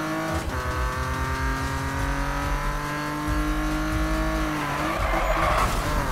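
A BMW M3 GTR tuned to 850 horsepower drifts in the Need for Speed racing game, its engine droning loudly and continuously while the tires squeal through a long slide, rising in pitch toward the end.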